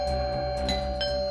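A doorbell rings with a steady sustained electronic tone and repeated chiming pulses layered over it, loud and close, with no voices.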